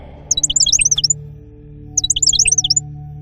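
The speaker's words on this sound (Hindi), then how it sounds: "रानी माँ, इन पंछियों को आपने क्यों कैद किया हुआ है?" Caged birds chirp in two quick bursts of high, bright tweets separated by a short pause, close and clear over a faint low background hum.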